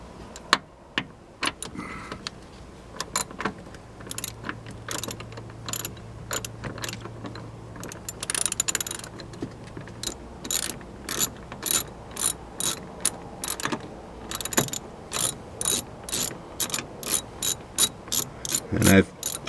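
A ratchet wrench works the 13 mm battery hold-down bolt on a 2017 Chevy Silverado 1500 with a 5.3 liter engine. Close, rapid clicking comes in bursts of varying speed, with short pauses and a faint hum partway through.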